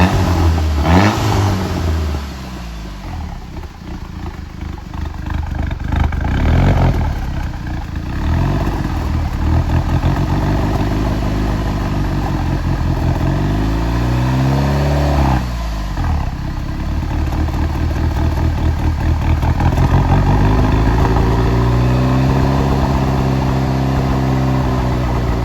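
An Audi car engine with a cam, burning oil and missing, idles roughly with a lumpy, loping rhythm, revving up sharply several times before settling back, loud and close with no talking.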